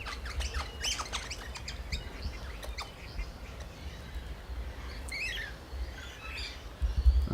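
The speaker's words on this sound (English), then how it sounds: "Crimson Rosellas, I think they're called" Crimson rosellas squawk and chirp while being fed at Loch Sport, with sharp, close calls repeating over a steady outdoor background.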